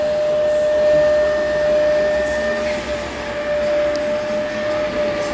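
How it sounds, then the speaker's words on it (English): A shop floor carpet cleaner works over a floor mat, its motor holding a steady droning whine with a constant airy rush at moderate loudness. "I'll come and clean your carpets for you. With my shop floor carpet cleaner."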